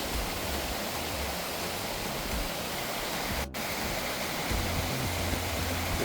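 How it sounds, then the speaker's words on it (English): Rotary Park waterfall on Wentworth Creek makes a steady, dense rush of falling water, close and continuous, with no voices over it. "Rotary Park waterfall."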